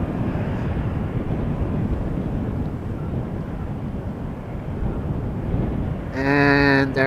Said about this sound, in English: it is an Embraer 190 from KLM going to Warsaw in Poland